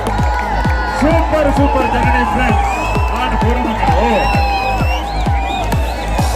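At a mosaru kudike festival in Sullia with a moving human pyramid, a crowd cheers and whoops over loud, rhythmic drumbeats, while a voice shouts through the festive din.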